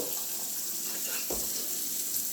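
Water runs steadily from a kitchen tap into a sink while cooked meat for chili is rinsed, a constant close rushing with a brief splash partway through.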